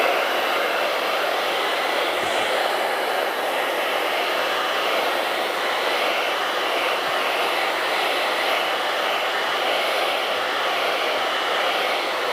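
A hair dryer blows steadily on a wet painting of kittens, a loud, continuous broadband whoosh that holds level from start to finish with no talking.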